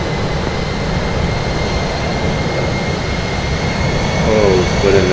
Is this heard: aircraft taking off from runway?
yes